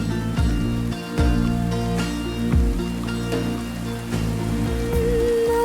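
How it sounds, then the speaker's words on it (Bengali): Heavy rain pours down in a steady hiss while sustained musical tones play underneath throughout. "বৃষ্টি কিন্তু বাড়ছে"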